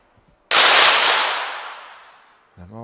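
A single sharp, loud pistol shot cracks close by at a women's 25m pistol shooting final, with a long decaying tail afterward. A voice begins speaking just at the end.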